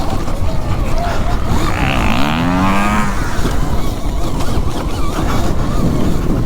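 An electric enduro motorbike accelerating on the throttle, a brief whining motor sweep rising through the middle of the clip, buried under heavy, loud wind buffeting and rumble.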